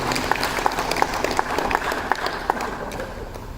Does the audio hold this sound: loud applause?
yes